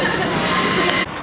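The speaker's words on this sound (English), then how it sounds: "That's a train going, this at my platform." Train passing at a London station platform: a loud, close, continuous rolling rumble with metallic squeal and clatter, steady until a brief dip near the end.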